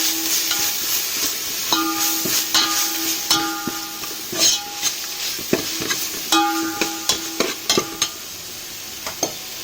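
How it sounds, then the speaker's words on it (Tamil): Onion and ginger garlic paste being stirred and sautéed in hot oil, with repeated scraping and clinking of a spoon against the pan over a steady sizzle, close and alone with no talking. "நல்லா பச்சை வாசம் போகிற அளவுக்கு நல்லா வதக்கி விட்டுக்கிறேன்."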